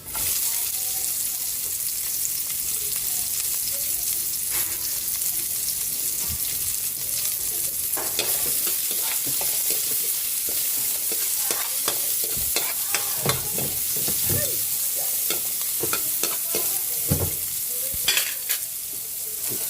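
Garlic and onion sauté in a hot pan with a constant close sizzle and crackle, broken by scraping stirring strokes of a utensil.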